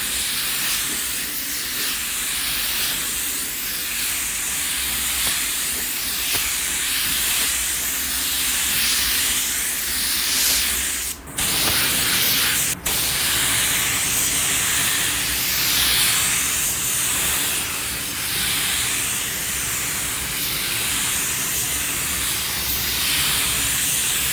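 A slow spray gun lays clearcoat on a car in a steady, loud, continuous hiss of atomized spray that briefly cuts out twice partway through as the trigger releases, then resumes.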